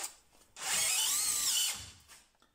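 A DeWalt DCD996N cordless drill drives a 5 mm, 50 mm long screw into wood, giving one loud, rising whir lasting just over a second that then winds down, close by with no talk.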